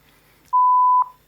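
A digital multimeter gives one steady electronic beep, about half a second long, loud and close, as its mode is switched while testing a USB-C soldering iron thermocouple.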